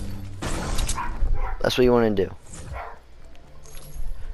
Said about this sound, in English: Dogs are barking, so ignore the dogs.